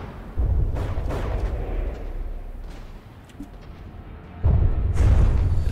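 Heavy booming explosions from the video game From the Depths, a low rumbling burst at the start and another near the end, loud and close, with no talking.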